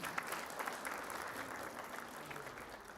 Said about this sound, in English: Let's applaud for ourselves.